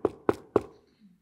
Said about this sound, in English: And when that knocking on the door came